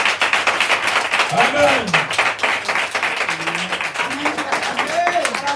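Audience at a French-language Christian church conference clapping in a quick, rhythmic pattern. The clapping runs steadily under a loud voice speaking and calling out over the crowd.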